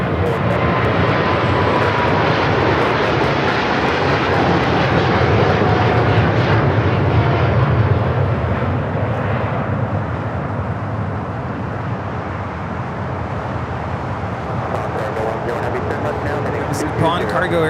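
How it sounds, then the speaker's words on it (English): A Boeing 747-8 freighter of Nippon Cargo Airlines takes off at Los Angeles airport, a loud sustained jet engine roar with broad rumble that holds steady throughout, with voices faintly under it. "Nippon Cargo Airlines 101 taking off to Tokyo Narita on the 747-8 freighter"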